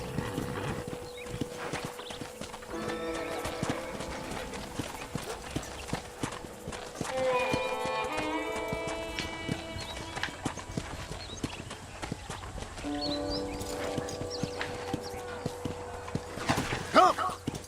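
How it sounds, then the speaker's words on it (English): Horse hooves clip-clop in a steady walking rhythm while riding in the video game Red Dead Redemption, continuous and close, with game music and occasional voices over the top. "let's see if you can still ride a horse"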